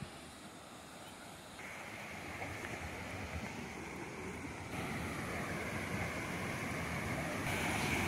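Large waterfall near Gwalior, Madhya Pradesh, a broad steady rushing roar of falling water that grows slightly louder partway through, with some wind buffeting the microphone.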